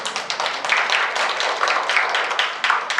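Audience applause for student presenters at a youth history inquiry contest in South Jeollanam-do, a continuous wash of many hands clapping at moderate loudness, steady throughout with a few sharper individual claps standing out.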